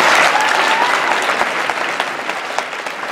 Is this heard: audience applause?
yes